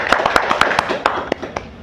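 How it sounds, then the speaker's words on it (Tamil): A Diwali debate-forum audience claps for a speaker being welcomed to the stage: a scattered run of sharp hand claps at a steady pace, fairly close, with faint voices murmuring underneath. "அவருக்கு ஒரு சிறந்த கைத்தட்டல் கொடுத்துடலாம்."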